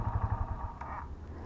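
An Italika Z150 motorcycle engine running at idle, a low steady throbbing rumble up close that holds evenly for the whole moment, with no voices.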